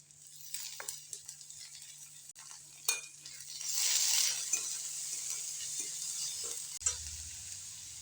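Ginger-garlic paste sizzles in hot oil with browned onions for a duck curry, a steady frying hiss with a spoon stirring and scraping the pan in bursts, close and fairly loud, a low hum beneath and no talk.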